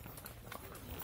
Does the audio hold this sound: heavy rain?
no